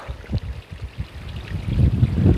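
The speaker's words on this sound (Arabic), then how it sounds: "واحد شلال صغير، هانتوما غنديكم باش تسمعوا الصوت ديال الماء" A small waterfall spills water in a steady rushing flow, close by and moderately loud, with a gurgling low churn that grows slightly stronger toward the end.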